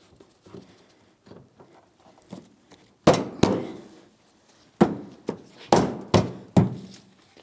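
Plastic bumper fascia on a 2007-2014 GMC Sierra 2500 HD being tapped into place along the fender, several sharp close knocks in uneven bursts after quieter light fumbling and handling sounds.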